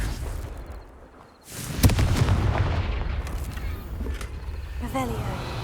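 A Confringo spell blast in Hogwarts Legacy: a short lull, then a sudden booming burst that rumbles on into a rolling, crackling tail, close and loud, with a voice speaking around it.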